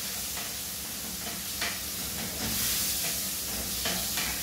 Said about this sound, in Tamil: ஸோ இதுலயே வந்து தக்காளி போட்டுலாம் இது வந்து நல்லா வதக்குங்க